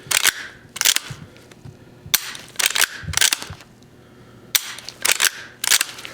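Sharp metallic clicks and clacks come in quick clusters as an older firearm's action is cycled, half-cocked and cocked, close up, with short pauses between each round.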